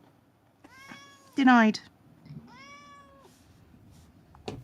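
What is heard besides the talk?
cat meowing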